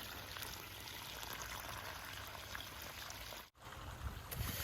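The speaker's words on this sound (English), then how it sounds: "The water's flowing, and it's flowing exactly where I want it to be flowing" Water flowing steadily along a newly built backyard waterway on an urban farm, a soft constant rush and trickle with a brief dropout near the end.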